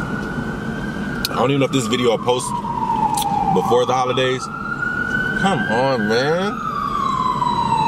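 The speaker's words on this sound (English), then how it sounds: "Excuse the sirens. I'm in the city." Emergency vehicle sirens wailing in a city street, a loud rising and falling tone sweeping repeatedly across the whole stretch while someone talks over it nearby.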